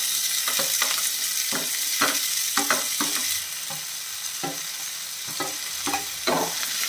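Tomatoes for tomato chutney sauté in a pan under a steady, hissing sizzle, punctuated by repeated spatula scrapes and taps in an irregular rhythm.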